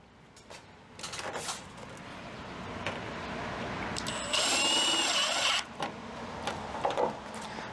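A power drill drives small color-matched aluminum screws into an aluminum rain barrel fitting, with one clear whirring burst of about a second among quieter handling noises.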